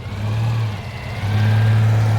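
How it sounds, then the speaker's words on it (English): A Rover car at a car show in Stroud runs with an engine that sounds like a Citroën 2CV, giving a loud, steady, low drone up close that dips briefly and then settles higher. "Now this is the car that sounds a bit like a 2CV."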